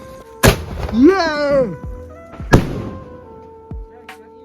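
Diwali firecrackers burst in two sharp, loud bangs a couple of seconds apart, with a brief whistling whine between them and a voice speaking nearby.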